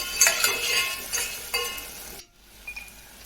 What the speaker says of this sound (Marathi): तो जो आपण टमाटर कापलेला होता तो मी त्यात घात घालते तो घातला की त्याच्यानंतर आपण थोडंसं परतून घ्यायचं